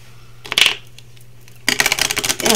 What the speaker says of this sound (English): Take the magic cards. I'm going to shuffle these.